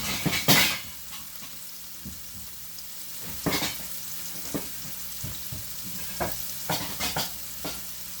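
A pot of chicken samosa filling with potatoes sizzles steadily on the stove, broken by several sharp scraping stirs of a spoon against the pot, with no talk.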